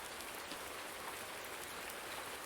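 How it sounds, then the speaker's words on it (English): Rain pours down in Farming Simulator 19 in autumn, coming through a leaky barn roof: a steady, faint, even hiss of heavy rainfall with no voices. "the rain just pours right through the barn"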